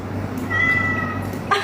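A cat meow played back through a speaker or phone, a short tonal call with a faint noisy hum and a brief knock near the end.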